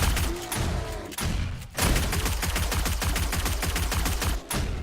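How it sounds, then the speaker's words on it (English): Shotguns blast repeatedly at a running zombie horde in the 7 Days to Die video game, loud close reports merging into a rapid, dense barrage with brief pauses between bursts. "Our shotguns are doing a number on them."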